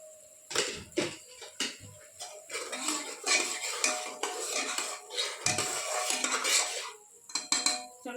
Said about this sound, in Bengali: এই মশলাটা কষিয়ে নিচ্ছি আর এর মধ্যে এই যে টমেটো কুচি দিয়ে দিচ্ছি